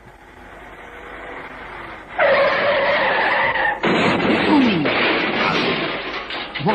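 A car skids hard as a reckless driver speeds off, tires squealing loudly and close in two long bursts over a rumbling engine.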